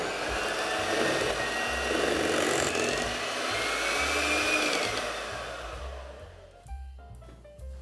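Electric whisk beating double cream until thick for a no-bake Turkish delight cheesecake, a steady close motor whine with shifting pitch that fades and cuts off near the end.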